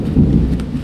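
Thunder rumbles over steady rain outdoors, a loud low roll filling the brief moment with a soft rustle on top.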